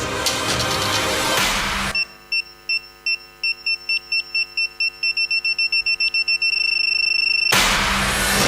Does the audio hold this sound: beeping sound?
yes